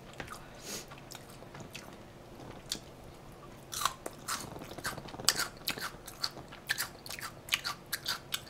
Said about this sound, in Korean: 아, 양파 좀 먹어야지.